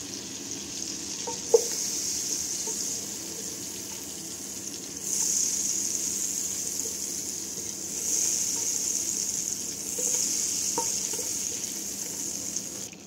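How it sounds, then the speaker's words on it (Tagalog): Butter melts in a cooking pot with a soft, steady sizzle and hiss that swells in waves, punctuated by a couple of light clinks from the pot. "Lagyan natin ng butter yung ating kaldero."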